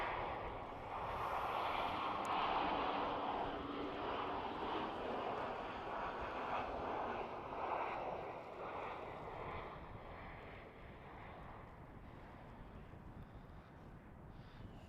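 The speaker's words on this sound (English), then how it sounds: "we have that KLM 737 coming in from Warsaw" A KLM Boeing 737 from Warsaw lands on runway 18R at Schiphol airport in winter weather. Its broad, distant jet roar swells early, holds, then slowly fades, mixed with steady wind noise and no talk.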